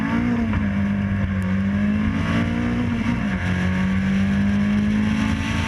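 Caterham race cars accelerate off the line at a Brands Hatch race start, a loud continuous onboard engine roar that rises and drops with gear changes, close and dominant throughout.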